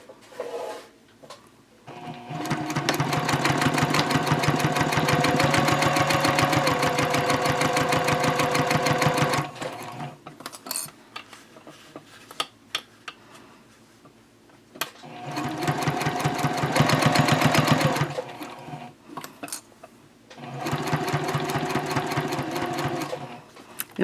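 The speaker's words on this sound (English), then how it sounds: "Now I'm ready to sew with this gusset." Sewing machine stitching a fabric messenger bag gusset at a 2.5 stitch length, running in three steady, fairly loud bursts with short quiet pauses and small handling clicks between them.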